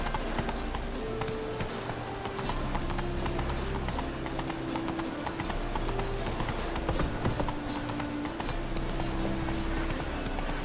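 Roach the horse galloping in The Witcher 3, a rapid, continuous clip-clop of hooves at steady pace under game music and ambient noise.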